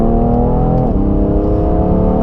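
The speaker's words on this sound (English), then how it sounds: "sounds awesome, has crackles in it, and even at low speeds has an awesome purr to the exhaust" BMW M3 with competition package and carbon ceramic brakes, its engine and exhaust giving a loud, deep steady purr close by, dipping in pitch briefly, with no voices.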